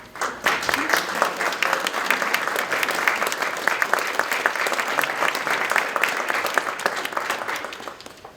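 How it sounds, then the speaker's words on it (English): An audience at a memorial Love Lights ceremony claps in sustained applause, a dense, even patter of many hands that holds steady for several seconds before tapering off at the end. "we want to give you a round of applause"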